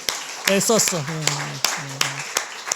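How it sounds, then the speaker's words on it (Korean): A church congregation at a Korean Sunday service claps, with sharp scattered hand claps spaced through the moment while a voice speaks loudly over them. "박수 한번 쳐주세요"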